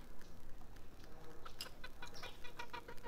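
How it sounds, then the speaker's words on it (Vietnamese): Jungle fowl and bantam chickens cluck in a morning coop, with several short clucks and calls scattered over a steady outdoor background, fairly close. "Đây là gà rừng."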